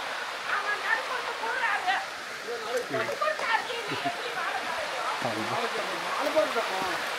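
Steady rushing water from a waterfall near Kookal, Kodaikanal, fills the background, with voices talking over it throughout.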